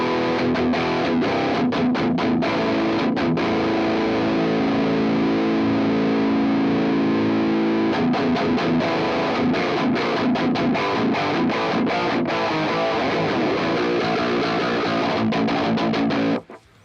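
Heavily distorted electric guitar run through an amp plugin in the Slate Virtual Mix Rack, loud and dense, playing steadily with chugging bursts throughout before cutting off at the end.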